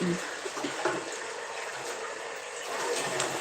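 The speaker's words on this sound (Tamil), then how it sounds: "இது விழுந்து என்னைக்கு நிறைஞ்சு நான் என்னைக்கு தண்ணி பிடிச்சி முடிக்கிறேன்" Water runs from a tap into a container as it fills, a continuous rushing hiss at moderate level with no break and only slight changes in tone.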